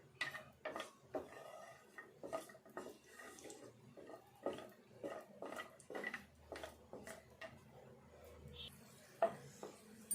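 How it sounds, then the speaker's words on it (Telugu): Cashews roasting in ghee in a pan on a low stove flame, stirred by hand for laddu, with a spoon scraping and clinking against the metal in a steady, repeated rhythm of close, moderately quiet strokes. "ఫస్ట్ వేపుకోవాలి జీడిపప్పు"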